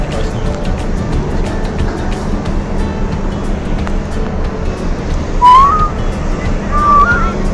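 Two short rising whistles ring out over a loud, steady rumble of wind and engine noise aboard the cruise ship Carnival Dream as it departs.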